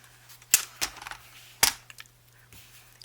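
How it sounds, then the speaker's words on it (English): Paper trimmed on a cutter while a handmade journal is assembled: a few sharp, close snaps and clicks, two louder cuts about a second apart with lighter ticks between, over a quiet background. "I think I'm going to trim off this little piece first"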